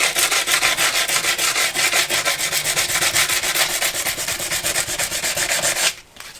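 Hand sanding curb rash on a 26x14 wheel with coarse 60 grit sandpaper, a loud steady rhythmic back-and-forth scrubbing that runs continuously for about six seconds before abruptly stopping.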